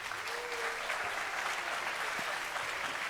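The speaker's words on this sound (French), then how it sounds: "Je voudrais une réponse à travers des applaudissements," Faint, steady applause from a festival audience at a digital transformation event, a soft continuous patter of many hands that sounds somewhat distant, with a brief tonal sweep partway through.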